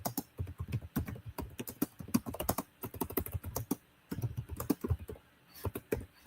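Fingers type on a computer keyboard in rapid, uneven bursts of close clicks, broken by one brief pause.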